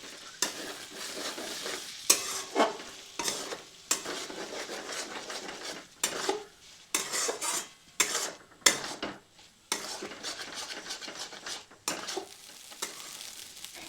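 Beaten eggs, two of them, stirred and cooked in a pan, with steady scraping and clinking of a utensil against the pan in uneven bursts over a soft sizzle, close and fairly loud throughout.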